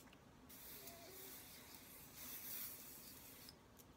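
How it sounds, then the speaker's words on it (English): Hairspray hissing steadily from an aerosol can onto hair during a brush-out wet set, a continuous close spray lasting several seconds with slight pulses and no talking. "just keep on spraying until it is as hard and helmety"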